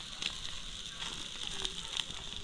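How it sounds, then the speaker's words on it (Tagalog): Fat drips from fatty surgeonfish grilling over an open fire and flares up, giving a steady close sizzle with soft crackles throughout. "Umaapoy siya dahil mataba yung surahan."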